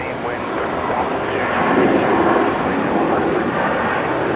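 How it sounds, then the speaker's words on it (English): A Qantas airliner arriving from Sydney touches down at Brisbane International Airport after sunset. A loud, steady roar of engines and rushing air builds slightly midway, and a voice talks over it. "Just caught Qantas 532 touching down."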